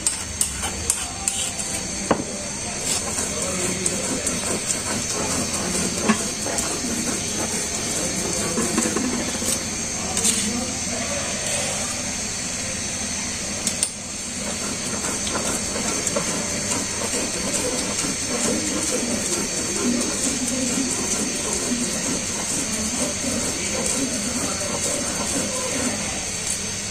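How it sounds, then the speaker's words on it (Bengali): Dried fish is crushed and ground on a stone grinding slab in a home kitchen: a long, continuous rough scraping with repeated knocks and grating strokes, close by and fairly loud. "সো এইভাবেই অনেকক্ষণ ধরে এটা শুটকি বট মানে শুটকিটা বেটে নিতে হবে"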